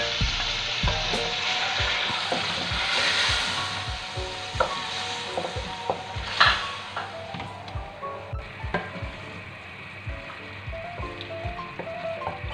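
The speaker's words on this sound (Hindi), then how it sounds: "अब इसको अच्छी तरह भूनेंगे।" A tomato and onion paste fries in a pan with a busy, bubbling sizzle, broken by frequent spoon taps and scrapes as it is stirred, for a dozen seconds with no talking.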